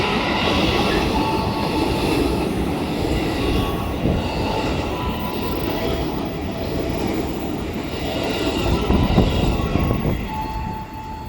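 Pangandaran train to Banjar, hauled by locomotive 206 1525, departs the station with a steady heavy rumble and rolling rail clatter that swells slightly near the end, with no talk.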